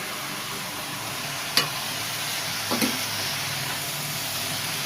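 Vegetables stir-fry in a home kitchen pan with a steady, soft sizzle, broken by a couple of brief scraping clinks from stirring; no voices.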